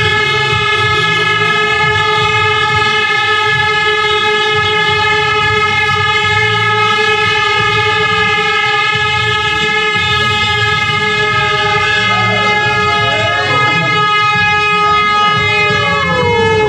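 A long, steady train horn blares loudly and continuously, its layered tones holding throughout with rumbling rail noise underneath.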